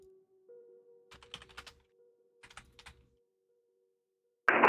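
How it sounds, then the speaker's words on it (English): Computer keyboard typing during an air traffic control session, a few short bursts of soft, close key clicks separated by pauses over a faint steady hum, ending in a sudden loud noise. "A lot of typing happens on these nights, you know?"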